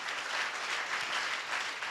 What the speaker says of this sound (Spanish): su nombre es Jesús, al cual te pido un aplauso en esta mañana.